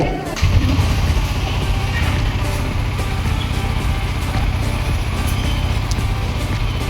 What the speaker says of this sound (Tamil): வண்டியை ஸ்டார்ட் பண்ணுவோம்.